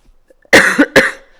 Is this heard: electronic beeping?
no